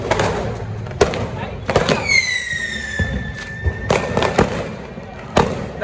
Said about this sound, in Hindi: देखो बम रख के फोड़ने के लिए